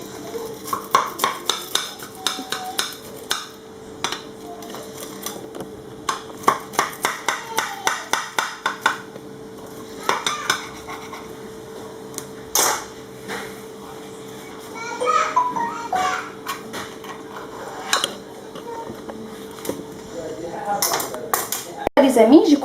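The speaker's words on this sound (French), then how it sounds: "je vais couper un morceau pour vous" A knife cuts a piece of minced-meat and eggplant lasagne with bolognese sauce in a dish: repeated close clinks and scrapes of metal on the dish, with voices and children's chatter in the background.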